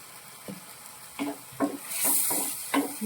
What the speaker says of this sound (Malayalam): ഇത് നന്നായിട്ടൊന്ന് സോട്ട് ചെയ്തെടുക്കുക